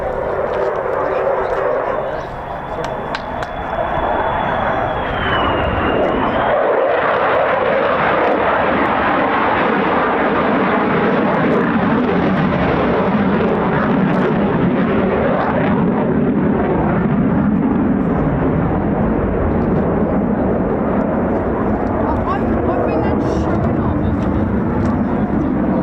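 A fighter jet, an F-15 or F-35 of the 48th Fighter Wing at RAF Lakenheath, roars past on a low approach, a loud sustained engine rumble and whine that swells and lingers while someone talks over it.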